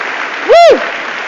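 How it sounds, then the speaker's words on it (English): Audience applause fills a high school curriculum night gathering, a steady wash of clapping with a loud whooping cheer rising and falling through the middle. "Let's give a big round of applause to Mrs. Hood."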